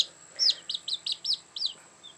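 Baby chicks, including Barred Rocks, peep in a quick series of six or seven high, bright chirps close by, then fall quiet.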